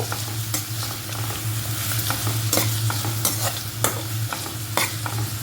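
Onions fry in a pan for a Malayalam dal curry with spring onion stalks and carrot, a steady close sizzle broken by repeated sharp scrapes and clacks of a stirring spoon against the pan, with a constant low hum beneath.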